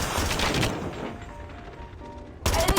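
A Chicom rifle fires in Call of Duty Mobile, a dense burst of rapid shots at the start, then a brief lull before another loud burst cuts in near the end.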